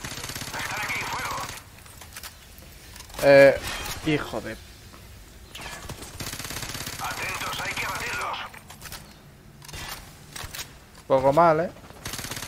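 Bursts of video game gunfire in Modern Warfare 2 Remastered, short loud volleys separated by pauses, under Spanish-speaking voices and squad chatter.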